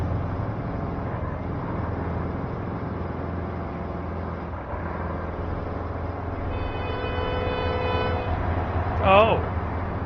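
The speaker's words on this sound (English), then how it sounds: "Oh, man decided to honk at me like I was in its way." Vehicle horn in the Roadcraft video game, a short tonal honk near the end over steady engine and machinery rumble, with a brief higher chirp and people talking throughout.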